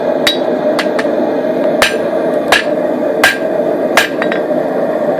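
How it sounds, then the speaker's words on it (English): A hand hammer strikes hot steel while forging out a blade tang, about eight sharp ringing blows at an uneven rhythm, close and loud over a steady background hum. "I'm going to start forging this out by hand"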